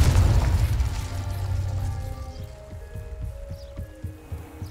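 Blasting spell explosions in the game Hogwarts Legacy: a heavy booming burst opens, followed by a rumbling tail and several smaller pops and thuds with faint tonal game effects, all loud and close with no talk.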